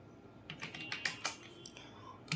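Keys clack on a computer keyboard while an SQL command is entered, a quick uneven burst of close, crisp taps with short pauses between, and nobody speaking.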